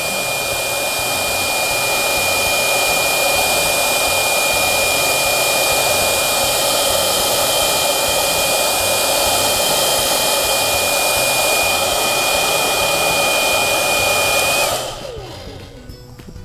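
A hair dryer blowing steadily on bent, wavy fishing line, a loud close whirring roar with a high whine that cuts off sharply near the end.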